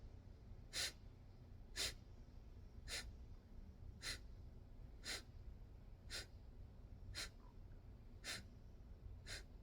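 Breath of Fire breathing exercise: sharp, forceful nasal exhales repeat at an even pace of about one per second, faint and close with no talking.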